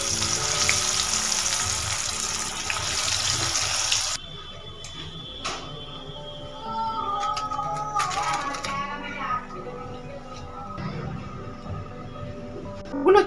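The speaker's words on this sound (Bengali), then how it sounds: "সেম প্রসেসে বাকিগুলো ভেজে নেব।" Cauliflower chops deep-frying in oil give a steady hiss that cuts out abruptly, then gentler bubbling with scattered clinks and a faint voice in the background.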